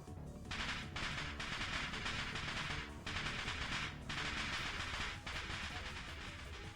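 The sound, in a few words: explosion like firecrackers behind a door, Steins;Gate visual novel game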